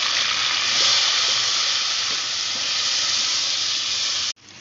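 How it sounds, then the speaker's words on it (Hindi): Spice masala hits browned onions in a pan and sizzles loudly, a dense steady hiss that runs unbroken and then cuts off abruptly near the end. "अब मैं इसमें ये मसाला डाल दूँगी"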